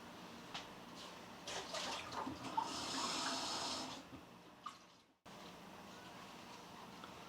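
Water splashes and swishes in a small jar as a watercolor brush is rinsed, a steady near wash of running and sloshing water for several seconds that tapers off and stops.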